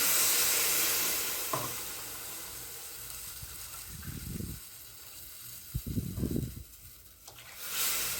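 Water hits a hot pan of vegetables for rava kichadi, which sizzle and hiss, with a few stirring scrapes and bubbling bursts, close by and moderately quiet.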